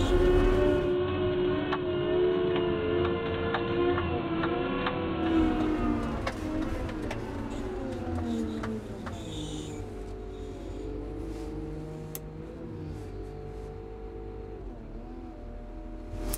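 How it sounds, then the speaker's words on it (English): A Cat 926M-series wheel loader drives in gear at maximum RPM in range 3 with a loud, steady diesel drone whose pitch falls and settles as the throttle eases off near a hill crest. "I'm gonna click it in gear. I'm gonna go to maximum RPM, range 3"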